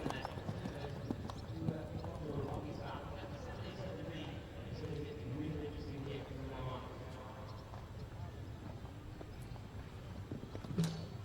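Steady hoofbeats of a compact little chestnut horse galloping on an eventing cross-country course keep up a continuous rhythm, with someone talking over them throughout.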